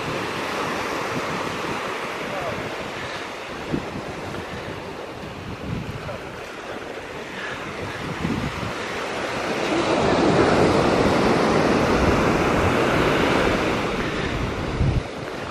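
Ocean surf rolls steadily onto a beach on Maui, Hawaii, a broad continuous wash mixed with wind buffeting the microphone, swelling louder as a bigger wave breaks near the end.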